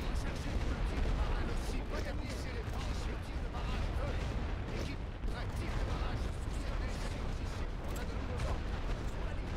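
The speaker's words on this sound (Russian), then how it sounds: "Пулемет." Dense battlefield gunfire and machine gun bursts rattle continuously in the video game The Great War: Western Front, loud and crowded with booms, with speech mixed in.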